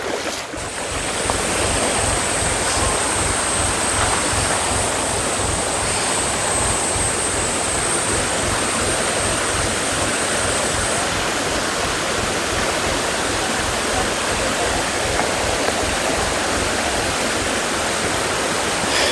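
A clear forest stream near the Karre hills rushes steadily over boulders and rocks, a dense continuous close wash of water with no pauses.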